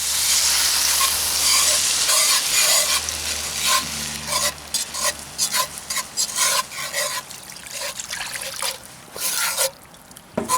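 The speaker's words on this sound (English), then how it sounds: "I'm going to whisk for this." Clam juice being whisked into clam chowder in a Dutch oven, a loud, busy stream of scraping and sloshing strokes with a liquid trickle that eases off near the end.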